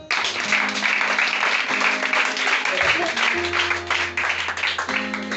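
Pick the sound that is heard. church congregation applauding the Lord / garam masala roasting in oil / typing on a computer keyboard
church congregation applauding the Lord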